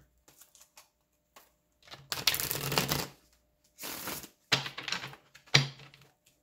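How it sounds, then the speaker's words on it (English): Quick papery riffles of tarot cards being shuffled in a few separate bursts, close up, with short quiet gaps between them. "Hold on real quick, let me shuffle these."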